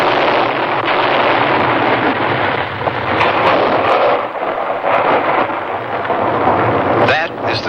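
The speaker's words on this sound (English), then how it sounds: "That is the sound of a United States Forest Service artillery team clearing an avalanche in the" Forest Service artillery fires blank shells to clear avalanche slopes in the Colorado Rocky Mountains, giving a dense, continuous rumble with scattered sharp distant booms and a short tonal flourish near the end.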